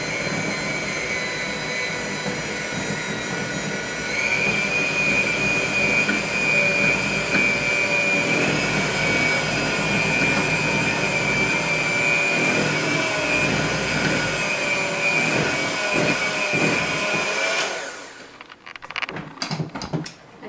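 An electric mixer whirring steadily as chocolate is blended into cream cheese frosting, a loud continuous motor whine holding for about seventeen seconds before cutting off into a few faint clatters.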